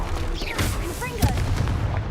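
In the video game Hogwarts Legacy, Confringo fire spell explosions go off as a cluster of sharp, punchy bursts over a rumbling low bed. A couple of the bursts come close together, with brief whooshing and chirping effects woven through them.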